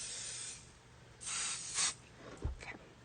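A few short hissing bursts from a spray can, separated by brief pauses, close by with no talking.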